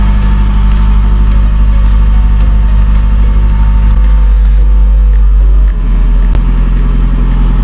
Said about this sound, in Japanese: 今エンジン暖気がちょっとね